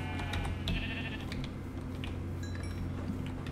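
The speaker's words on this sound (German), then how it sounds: "So, dann haben wir jetzt 4 Schäfchen." Sheep bleating in the video game Minecraft, a few short bleats over a steady low game background hum, moderately close, with no talking.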